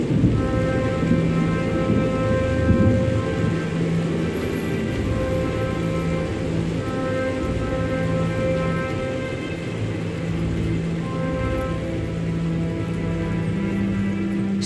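Steady heavy rain pours throughout a thunderstorm, with low rumbling beneath a dense, continuous wash and faint sustained tones layered over it; no voices.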